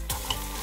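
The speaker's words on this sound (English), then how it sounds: "Still nice and sizzling." Silverside beef browning in a frying pan on the stove, a loud, steady close sizzle of hot oil with a brief stir-like clatter near the start.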